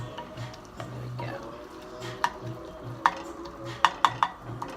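Pork sausage and browned garlic cooking in a pan, broken up with a spoon: a low sizzle runs under repeated scraping and clicking spoon taps against the pan, the taps growing sharper toward the end.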